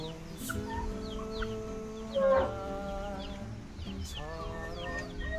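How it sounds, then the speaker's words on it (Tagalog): Chickens on a rural farm cluck and chatter in a scattered, overlapping chorus, with one louder squawk partway through, heard at moderate distance without talk. "Hulihin mo yung manok."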